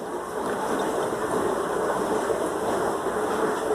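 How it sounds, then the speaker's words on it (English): A steady, rumbling mechanical wash noise from an old dishwasher churns continuously, with a broad hissing whoosh and no pauses or speech. "I decided to start the dishwasher and it's an old one"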